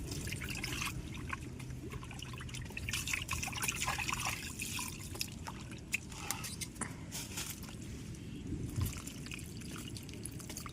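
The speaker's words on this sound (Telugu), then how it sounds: "సాయి నీళ్ళు పోతురా" Water poured and trickling outdoors in a village cooking setting, a continuous dribbling splash with small drips, faint and steady, with no voices.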